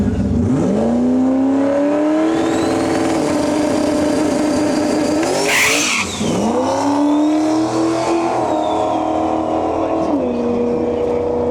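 Pro Mod drag race cars thunder down the strip at a loud, close level, a sustained high-revving roar that rises in pitch, with a brief crackling burst midway and engines pulling through again. A commentator talks over it.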